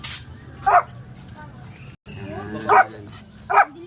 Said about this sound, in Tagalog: Ayan po, may mga aso po dito.